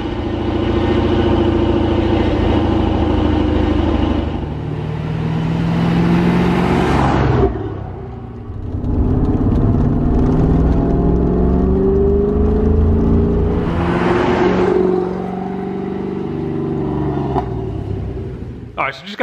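A C4 Corvette with its catalytic converter removed starts up and revs, a loud, close exhaust rumble rising and falling through several throttle blips, with louder swells near the start and middle, while someone talks over it.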